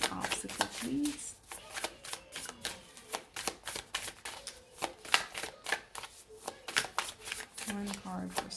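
Tarot cards being shuffled and drawn, a rapid series of close riffling flicks and soft slaps repeating steadily throughout, with a voice speaking faintly in the background.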